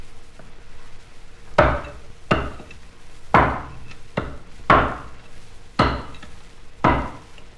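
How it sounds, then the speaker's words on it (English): An axe strikes wood again and again, six sharp, evenly spaced thwacks in a quiet country setting, each clear and fairly close against a low background. "That was a man chopping wood."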